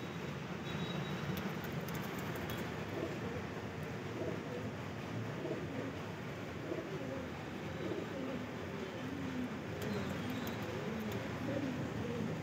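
Soft cooing from a group of teddy pigeons repeats faintly amid a constant dense background hum, a low murmuring chorus of several birds.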